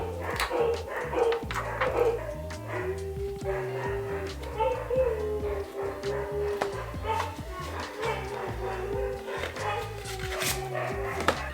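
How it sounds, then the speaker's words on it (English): Several dogs bark repeatedly indoors at a home, close and fairly loud, with yips and whimpers mixed in over a steady background hum. "See if the dogs are gonna stop barking."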